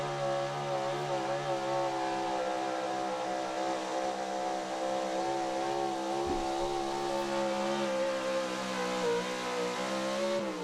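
A big block high output 4x4 pulling truck roars loudly and continuously at a truck pull, its engine note steady with slight wavering as the wheels spin.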